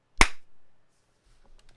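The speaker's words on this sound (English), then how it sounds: "So I'm clapping right now." A single sharp hand clap is made to sync a podcast recording, close and crisp with a short room decay, followed by near silence and faint rustling.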